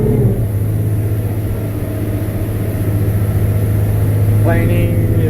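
A 22-foot Pro Duckworth boat engine droning steadily and loud, rising in pitch as the hull accelerates toward planing speed, with a continuous rumble throughout.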